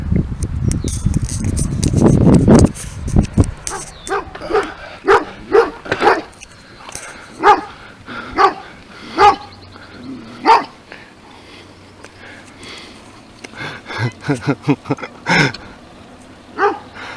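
A dog barks repeatedly from behind a fence along a roadside near Lake Erie, sharp barks in irregular bursts with some whimpering yips, moderately near over a steady background hum.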